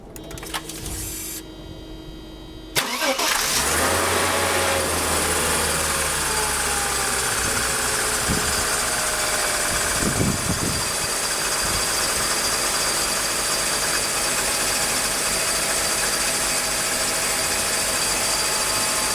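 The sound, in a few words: Mercedes M104 engine starting and idling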